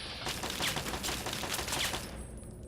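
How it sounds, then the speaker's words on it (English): An automated turret in Fallout 3 lets off a rapid burst of machine-gun fire, a fast rattling stream of shots at moderate distance that lasts about two seconds and then cuts off. "Oh, there's a turret there."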